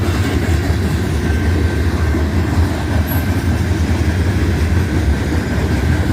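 Loud, steady rumble of a train rolling on rails at night, a continuous low roar with faint rail clatter and no voices.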